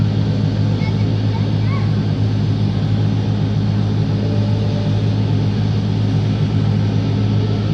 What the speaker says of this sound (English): I think it is starting up, isn't it?